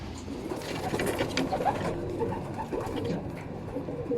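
A racing pigeon coos softly at close range, low throaty murmurs under a muffled background of shuffling and handling noise.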